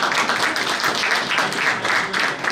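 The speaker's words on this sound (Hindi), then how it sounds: "तालियां।" A crowd at a recognition gathering honoring years of service claps loudly and continuously, producing a thick, even wash of applause with no pauses.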